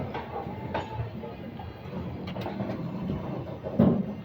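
The Lingampalli–Vijayawada Intercity Superfast Express runs out of Guntur Junction, a low steady rumble of rolling carriages with occasional rattles and clicks, heard from inside the train.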